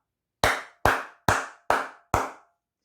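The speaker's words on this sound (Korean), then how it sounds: "기립박수 크게 치고 가도록 하겠습니다" Five sharp hand claps in an even, deliberate rhythm, each crisp and close with a quick decay and clean silence between them.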